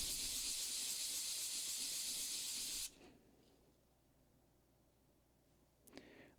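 Sandpaper rubs a 3D-printed part made from Proto-Pasta stainless steel filament. A steady, loud, scratchy hiss runs for about three seconds, then stops abruptly and leaves near-silence with a faint handling knock at the end.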